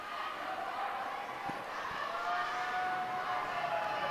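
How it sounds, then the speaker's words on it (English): Crowd at a women's college basketball game grows louder in the closing seconds of the fourth quarter during free throws, a steady roar of cheering voices with a rising whistle-like tone. "SNU crowd getting loud here."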